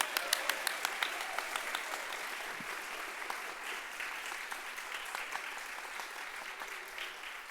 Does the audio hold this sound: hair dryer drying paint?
no